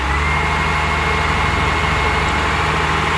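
A Komatsu WA180 wheel loader, weak at lifting its bucket and heavy in the steering, runs its diesel engine with a steady loud throbbing drone and no clear rise in pitch, close by.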